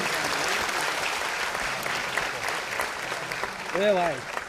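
Loud, steady applause from a large audience at a classical-music awards ceremony fills the whole stretch, with a brief voice rising over the clapping near the end.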